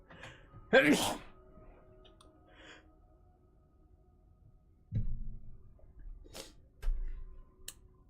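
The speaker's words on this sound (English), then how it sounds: "I'm gonna sneeze" A single sharp, close sneeze set off by a fan blowing on the nose bursts out near the start, followed by quiet room sound and a few soft thumps and rustles.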